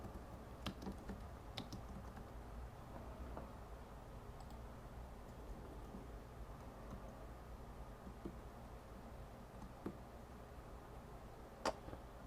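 Faint keystrokes on a computer keyboard as an address is typed into a form, scattered irregular clicks with a few sharper taps, quiet and alone without speech.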